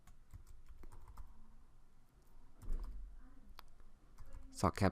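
Someone types into a Google Sheets spreadsheet on a computer keyboard, producing quiet, scattered key clicks with a short flurry near the end. The typing is soft and close against a low room hum.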